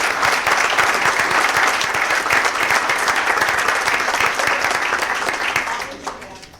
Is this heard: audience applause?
yes